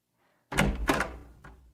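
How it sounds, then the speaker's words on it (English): A door clunks and rattles open close by, with a short thump and a softer knock trailing after it, then quiet. "Pip opened the door."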